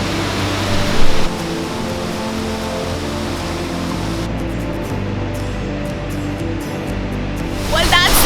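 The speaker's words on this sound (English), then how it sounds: "I'm not sure if you can hear me because of the sound of the water falling." A Himalayan waterfall in the Sainj Valley roars as a loud, steady wash of falling water filling the whole stretch, with a brief knock early on and faint clicks near the end.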